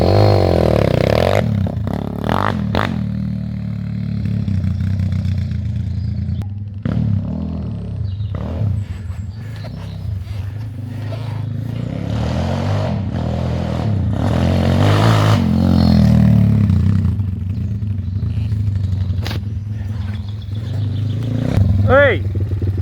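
A WPB 190 pit bike engine revs and rumbles loudly and steadily throughout, with scraping and clattering as the bike rides across a field and people talk over it.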